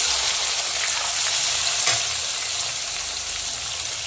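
Chopped onion hitting hot oil with whole garam masala and cumin for a village-style country chicken curry, giving a loud, steady sizzle with one brief stirring clatter midway and no talk.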